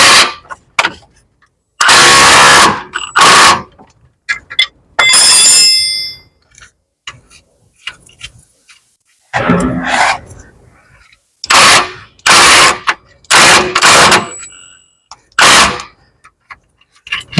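An impact gun loosening a suspension bolt on a Tesla Model X, loud rattling bursts of a few seconds each, repeated several times with quiet gaps between them, close by.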